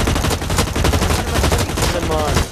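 Rapid bursts of video game gunfire crackle close and loud across the whole stretch, dense overlapping shots like automatic fire during a shooter match.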